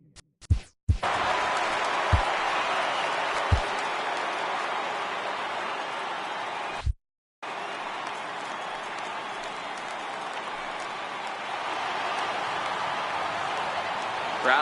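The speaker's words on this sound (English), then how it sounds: "Crowd gets up for the 3-2." Crowd noise in the MLB The Show 18 baseball video game, a steady broad roar of fans rising for a full count, with a few sharp bat-like clicks early and a brief cut to silence midway.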